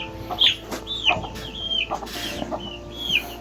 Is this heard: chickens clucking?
yes